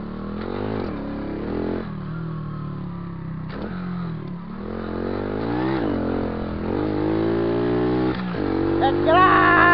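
Motorcycle engine revving hard during a wheelie, pitch rising and falling in repeated surges, loud and close throughout with wind buffeting.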